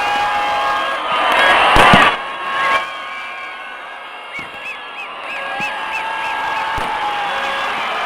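New Year fireworks over a Chennai beach crackle and pop, with a louder burst of bangs early on and scattered whistles and pops after it. A crowd murmurs beneath.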